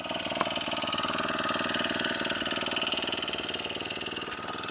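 Powered BikeE engine and transmission running on a test stand, a steady mid-pitched engine drone with a fast regular pulsing throb, continuous and fairly loud throughout.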